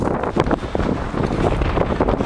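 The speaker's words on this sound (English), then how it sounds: "You can probably hear the wind on the camera." Wind buffeting a camera microphone outdoors in deep snow, loud continuous rumbling gusts filling the whole short stretch with no other sounds.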